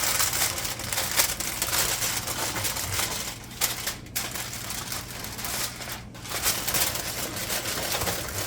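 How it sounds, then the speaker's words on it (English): Aluminum foil crinkles and crunches continuously as it is wrapped around a turkey for Cajun roasting, a dense, close rustle with a couple of brief lulls. "you got to wrap the turkey. Aluminum foil."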